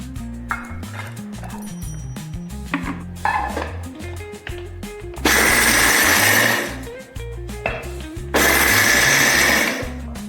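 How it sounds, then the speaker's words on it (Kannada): A kitchen mixer grinder grinds roasted gram in two loud, steady whirring bursts of a few seconds each, separated by clattering and handling noises. "ಪುಟಾಣಿ ಕಡಲೆಯನ್ನು ಮಿಕ್ಸಿ ಜಾರಿಗೆ ಹಾಕಿ ಸ್ವಲ್ಪ ಹುಡಿ ಮಾಡುವ"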